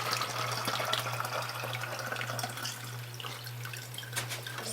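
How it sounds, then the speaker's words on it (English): Water pours from a tap into a container holding baking soda for a sanitation mix, a steady trickling splash under a constant low electrical hum, fairly quiet throughout. "Now what we want to do is add water. We're going to want to fill it up about halfway"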